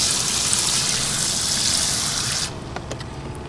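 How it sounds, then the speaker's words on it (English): Water pours into a bucket in a steady, hissing gush for about two and a half seconds, then stops, leaving a few faint drips and splashes. "I will put some water in my bucket."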